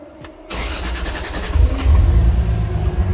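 A Volvo 240 engine with freshly cleaned injectors cranks and catches after a quiet half second, then settles into a close, steady running rumble that swells slightly.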